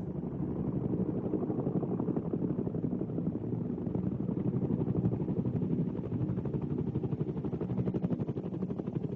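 A military helicopter in Vietnam War archive footage flies steadily with a continuous, throbbing rotor chop and engine drone, even and sustained throughout without any voices.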